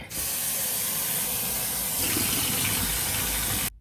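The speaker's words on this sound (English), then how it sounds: "Let's get our water in here." Running water pours steadily into a cooking pot for boiling potatoes, a continuous hissing gush that rises slightly in tone partway through, with no voices.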